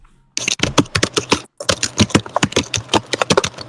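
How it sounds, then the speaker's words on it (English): Loud computer keyboard typing, rapid, sharp key clacks in quick irregular bursts, close up, with a brief pause partway through and no talk. "Your pug's typing very loud."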